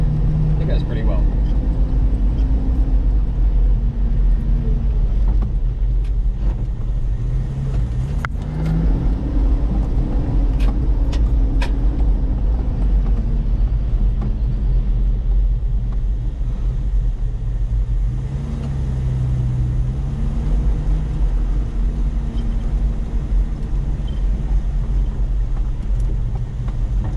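A cammed Toyota TB42 engine with a ported head and a three-angle valve job idles with a lope. The low rumble is steady and loud, and there are faint hints of the revs rising once or twice.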